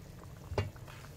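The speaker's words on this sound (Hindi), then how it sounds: "ढक्कन उठा के देखिए पानी इसका पक रहा है शोरबा" Meat and potato broth simmers in an uncovered pot on a home stove, a faint soft bubbling with one brief louder blip, close by and without talk.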